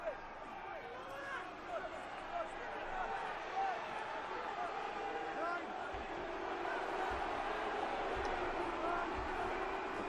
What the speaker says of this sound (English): The crowd baying for more.